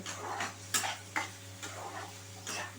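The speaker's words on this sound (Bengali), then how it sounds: "নুন দিয়ে সমস্ত জিনিস আমি ভেজে নেব" Vegetables frying with salt in a pan for semolina pulao, a soft sizzle under repeated stirring scrapes and light clinks of a utensil against the pan, close and steady with no talking.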